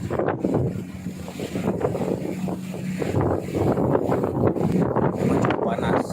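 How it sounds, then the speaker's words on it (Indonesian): Wind buffeting the microphone and waves slapping against a passenger ship at sea off Aceh, a steady rushing roar with irregular surges of splashing water. "ini dengan spoi-spoi angin juga terpaan ombak yang kadang-kadang besar"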